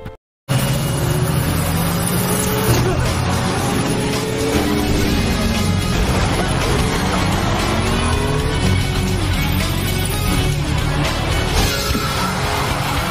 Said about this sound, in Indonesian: ngejar dia pakai motor Pinky-nya, dan terjadilah aksi kejar-kejaran di kota